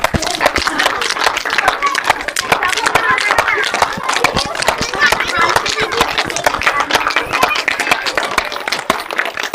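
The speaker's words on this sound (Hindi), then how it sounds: "एक बार जोर से ताली बजाओ।" A group of children clapping loudly together during a yoga session, dense, fast continuous hand claps filling the whole stretch at close range, with voices mixed in.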